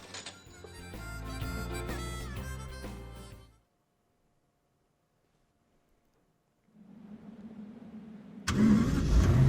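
Car in the Final Fantasy XV video game on PS4, heard as a music-like engine passage, then several seconds of silence, then a low engine idle that rises into a louder, fuller roar.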